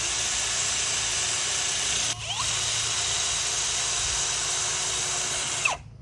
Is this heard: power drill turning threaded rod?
yes